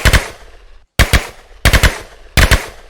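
Vector submachine gun from a Minecraft gun mod firing in four sharp, loud bursts of rapid shots, separated by short pauses.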